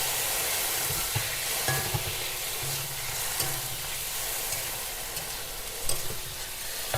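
Lote fish, also called Bombay duck, fries in a pan on a boat, a close, steady sizzling hiss with bursts of scraping stirring and occasional soft clanks.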